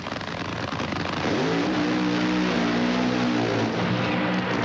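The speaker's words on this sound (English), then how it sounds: "that car of Mark Oswald sounds wonderfully powerful" A nitro drag racing car from the 1988 NHRA Quaker State Mid South Nationals roars loud and close during its burnout, the engine note rising and holding as a harsh, steady blast.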